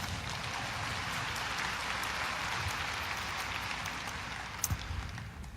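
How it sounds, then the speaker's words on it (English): An audience applauds steadily at a university talk, a dense, even wash of many hands clapping at moderate distance, with a couple of sharper claps near the end. "give her a round of applause"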